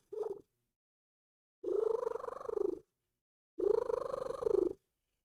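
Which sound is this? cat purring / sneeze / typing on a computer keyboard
cat purring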